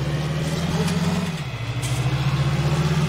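A tractor engine idles in Farming Simulator 19, a steady low mechanical hum with a slight dip in pitch midway, continuous and fairly close with no talk.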